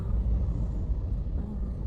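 Cars and heavy vehicles in slow road traffic on a long trip to Bicol give off a steady, close, low engine rumble with a dull droning wash of road noise.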